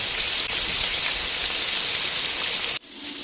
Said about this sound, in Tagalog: Yan, prito na natin.